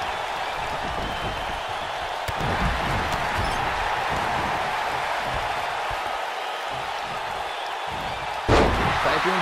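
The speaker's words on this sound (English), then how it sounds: "Picks him up and slams him down." A wrestling slam in WWE 2K19 lands as a sharp impact over steady, loud arena crowd noise, with a second heavy thud near the end.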